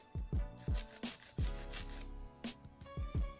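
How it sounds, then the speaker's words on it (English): Short rhythmic rasping strokes of a nail file against an acrylic gel nail tip, close and fairly quiet, with irregular bursts and brief pauses between passes. "I'm gonna take a file and go ahead and file that point straight on each side."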